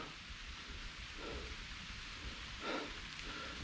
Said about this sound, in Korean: 비가 오는데 후덥지근하네